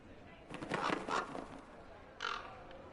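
A crow caws twice in the Dragon Age Inquisition game world, two rough squawks close by around the one-second mark and another harsh call later, standing over a quiet ambient background with no talk.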